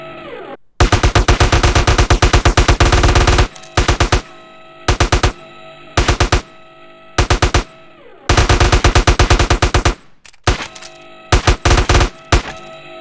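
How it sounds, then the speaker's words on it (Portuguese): An AK rifle fires in GTA San Andreas in loud, close automatic bursts of varying length with short gaps between them, rapid and rhythmic, no speech. "Agora é a AK. Mesma coisa."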